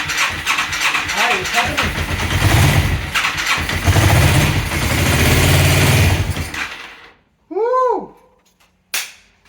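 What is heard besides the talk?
Yamaha XS400 motorcycle engine starting and running rough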